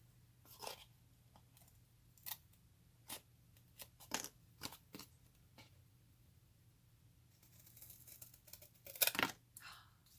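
Sharp scissors snip through material in quiet, close, irregular bursts of crisp cuts, with a denser flurry of snips toward the end while making a cheap DIY tarot box.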